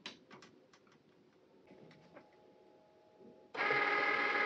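A Cricut cutting machine scans the printed cut lines on a sticker sheet loaded on its mat. Soft, irregular ticks and clicks are followed by a sudden loud, steady mechanical whir near the end, close to the microphone with no talking.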